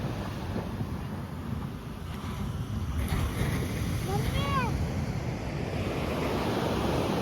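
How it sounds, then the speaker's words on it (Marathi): Sea waves washing onto a beach at Gokarna on the Indian coast, a steady broad roar of surf with wind noise over the microphone, continuous and fairly close, with a faint bird call passing midway. "इकडे बघा पाण्यात सर्व दिसतात बघा लाट आली"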